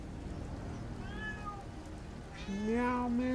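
A cat meows in Fallout 4 with a soft, brief call followed by a louder, longer meow over a steady low ambient game hum.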